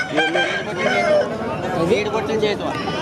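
A fighting cock crows at a busy Saturday rooster market in G. Mamidada, its drawn-out call rising over steady crowd chatter while people talk nearby.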